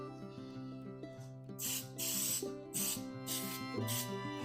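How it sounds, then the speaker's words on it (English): Baking spray hisses into a pan in several short bursts over steady background music. "spray our pan"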